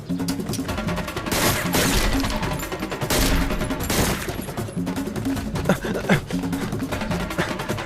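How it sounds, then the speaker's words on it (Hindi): Gunfire fills a movie scene from a Hindi-dubbed action film, with dense, loud bursts of rapid shots and repeated cracks sustained throughout, several sharper blasts standing out. "लगता है गोली चलानी पड़ेगी।"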